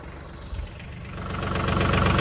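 A tractor engine runs at a steady mid-pitched idle during fence stretching, then rises gradually in loudness and revs toward the end.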